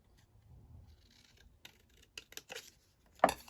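Scissors cutting paper for a craft page, a few short snips and rustles, close and quiet, with one sharper cut near the end and no talking.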